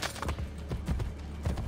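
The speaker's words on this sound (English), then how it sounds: "Faster to travel by horse." Rhythmic hoofbeats of a horse trotting in the video game Assassin's Creed Brotherhood, steady clip-clop pattern, moderately close with no talking.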